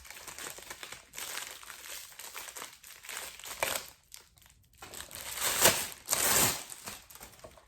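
Plastic wrapping crinkles and rustles as a reusable, washable haul item is unwrapped, close and fairly quiet, with irregular bursts of crumpling and a couple of sharper crackles.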